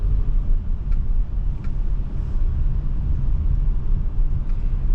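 A 2026 Infiniti QX60 Autograph AWD SUV rolls through turns at low speed, giving a steady low cabin rumble of road and engine noise with a few faint ticks.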